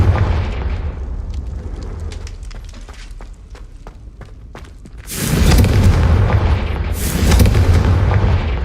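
Fiery Confringo spell blasts in Hogwarts Legacy, with crackling bursts leading into two heavy, booming explosions that surge loud, with a brief dip between them.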